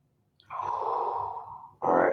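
A long, slow exhaled breath during a yoga session, a soft breathy whoosh lasting over a second, then a fresh intake or sigh starts right after; close and fairly quiet, no talking.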